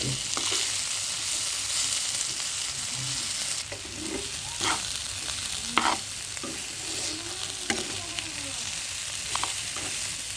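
Bitter gourd stir-frying in oil in a pan gives a steady, close hiss and sizzle, broken by soft scrapes and clacks of a stirring utensil throughout.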